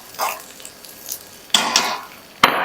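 Broken cashew nuts are sautéed in a pan for dragon chicken, with a few sharp metallic scrapes and clinks of a spatula and a faint sizzle, close and intermittent.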